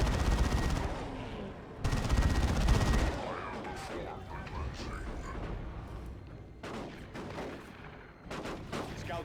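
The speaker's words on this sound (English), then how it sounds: "shotguns hitting the Ravager tunnel once again" Gunfire from Dawn of War 2 shotguns hitting a Ravager tunnel during a Tyranid battle, loud dense bursts at the start easing into a continuous clatter of shots and explosions, with further bursts near the end.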